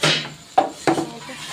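Plates being gathered and handled in a home kitchen while pasta is served: a burst of clatter, then two sharp clinks of crockery set down about a third of a second apart.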